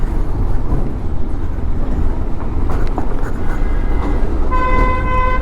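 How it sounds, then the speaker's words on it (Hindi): A car horn sounds near the end, a sustained tonal honk rising over loud, steady street and engine noise on the road from Dawaipani to Siliguri. "फिर से पीछे आके हॉर्न मारेगा।"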